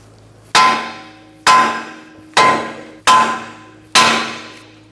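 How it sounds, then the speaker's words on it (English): Sledgehammer strikes on a steel steering knuckle to free the tie rod on a Buick Encore, five sharp metallic clangs spaced about a second apart, each ringing and decaying before the next, close and loud. "we're going to tap here with a sledgehammer and disconnect the tie rod from the knuckle"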